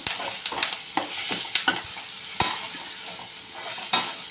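Tempering frying in a pan for cooked leafy greens, a steady bright sizzle broken by repeated scraping clinks of a spoon stirring the spices, close and fairly loud with no voices.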